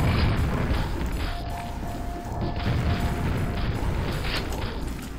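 Loud, booming rocket explosions in Quake roll through a continuous, dense wash of game combat noise, with no clear gaps between impacts.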